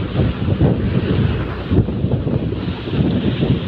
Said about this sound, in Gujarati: જો કેટલું વાવાઝોડું છે